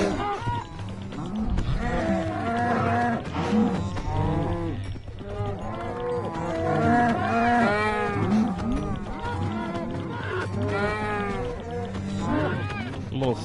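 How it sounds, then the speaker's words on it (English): Cows mooing in the video game Minecraft, Bedrock Edition, as a large herd of around sixty is culled, with repeated overlapping lowing calls running throughout under continuous talk. "60 cows."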